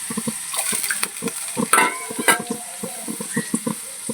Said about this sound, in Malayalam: കടുക് പൊട്ടിയതിന് ശേഷം ഇതിനാവശ്യമായിട്ടുള്ള വെള്ളം ഒഴിച്ചു കൊടുക്കാം